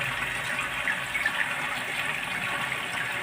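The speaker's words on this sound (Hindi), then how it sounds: "ये देखिए इसका पानी अब स्टोर हो रहा है।" Water steadily refilling a toilet flush tank after the supply valve is opened, a continuous close hiss and gush with no pauses and no talk.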